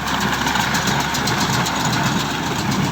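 A Kubota L5018 tractor engine idles and runs steadily at close range while pulling an International 440 hay baler, a dense rumbling chug with no talking over it.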